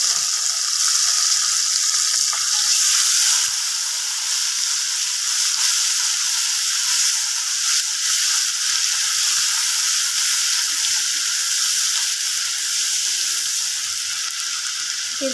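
Turmeric, garlic paste, green chili paste and salt frying in hot oil for shorshe ilish, a steady bright sizzle that holds unbroken and close for the whole stretch, with no talking.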